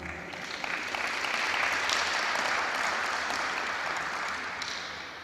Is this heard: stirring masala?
no